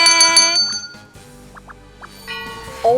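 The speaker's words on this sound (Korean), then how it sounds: "시작부터 기분 좋은 종소리가 울렸습니다" A quick run of bright, ringing bell chimes opens a quiz-show segment on a Korean stock-market program, with several clustered strikes at the start, then a few faint tones and a closing chime.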